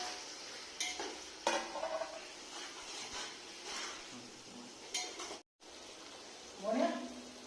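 Onions fry in a pan for a mutton curry, sizzling steadily with scraping stirs and a brief break, and people talk faintly over it.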